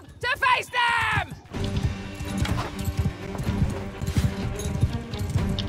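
In the video game Mount and Blade II Bannerlord, a horse whinnies loudly, then its hooves pound in a fast galloping clip-clop amid battle clatter, with someone talking over the action.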